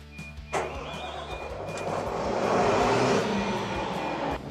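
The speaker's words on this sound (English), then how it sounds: "we can turn the engine on and engage the hydraulics" The engine of a Keestrack mobile crusher cranks and starts with a sharp burst, then settles into a steady loud rumbling drone that swells and keeps running.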